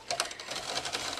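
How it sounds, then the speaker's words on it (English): A frayed window regulator cable in a 2002 VW Passat door grinds and crunches in a quick rattling burst, a close, faint, gritty chatter with no speech. "that's all that crunching noise you hear going back and forth."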